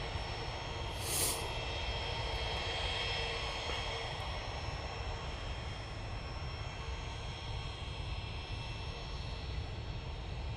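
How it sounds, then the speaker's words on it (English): A Pilatus PC-24 business jet departs Manchester Airport, its engine noise a steady, broad roar held at constant loudness for the whole stretch, with no talk over it. "It's the second of their PC-24s going out."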